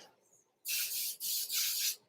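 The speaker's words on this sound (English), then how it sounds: "Just going to do a light spray." Three close hissing bursts of a coconut oil cooking spray can, each about half a second, with short pauses between them, in a quiet room.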